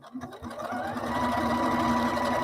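A sewing machine runs steadily during quilting, its motor hum rising within the first moment and then holding an even, close, continuous whir with a fine mechanical rattle and no talk.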